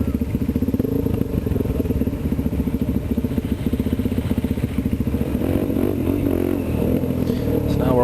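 Several dirt bikes ride together, their engines droning loud and close with a steady pulsing rhythm and rising revs toward the end.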